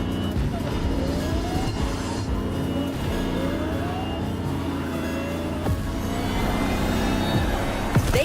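A Lamborghini Terzo Millennio in the racing game The Crew Motorfest, its engine droning continuously with rising pitch sweeps as it accelerates and shifts, steady and fairly loud throughout.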